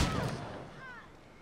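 A gunshot in the video game Assassin's Creed Rogue, a loud sharp blast right at the start that decays into a fading rumble and echo, with a faint whistling tone afterward.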